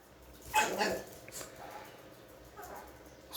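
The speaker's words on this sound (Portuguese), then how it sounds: "Os cachorros aqui se estranhando." Dogs squabbling with each other: a few short, faint barks and yips come in quick bursts at a distance, followed by quieter grumbling. Background noise sits underneath.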